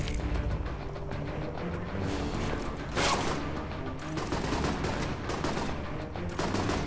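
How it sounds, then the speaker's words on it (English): Enemies firing guns in Alpha Protocol, a dense stream of rapid gunshots with a few louder bursts, steady and close throughout with no voices. "Are they shooting at me?"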